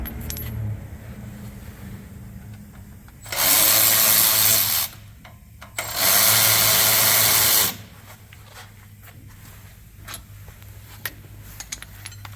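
A ratchet backs out rusted brake caliper bolts on a 2018 GMC Silverado 2500/3500: two loud, sustained metallic whirring bursts of about a second and a half each, then scattered faint clicks and taps in a quiet garage.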